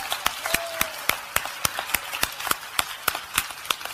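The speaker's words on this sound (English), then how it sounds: "Let's give a good clap to Pastor Elizabeth." A church congregation claps in welcome for a visiting pastor, Pastor Elizabeth: sharp, fairly regular claps from a small group, close and crisp, repeated several times a second with no talk over them.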